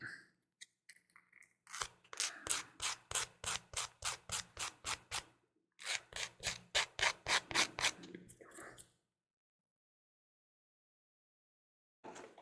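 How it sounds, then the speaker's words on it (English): Quick, rhythmic back-and-forth sanding strokes smooth the bottom of a small miniature monster model, close and crisp, in two bursts separated by a short pause, then silence. "a little bit of sanding on the bottom just to smooth it out"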